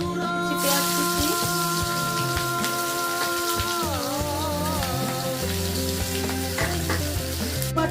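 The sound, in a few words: chopped onion frying in pan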